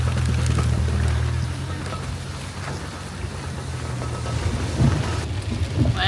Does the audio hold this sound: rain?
yes